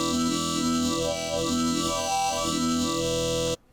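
A sustained chord from the Serum synth, its wavetable colorized by a formula into a minor or major color bass tone, bright and dense with slow pulsing movement, loud and alone before cutting off abruptly.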